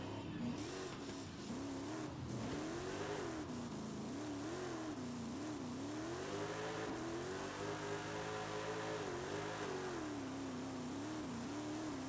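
A custom-tuned car engine in the Forza racing game, its cam barely audible, revs up and down in smooth continuous swells over a steady, fairly quiet drone, with no talking.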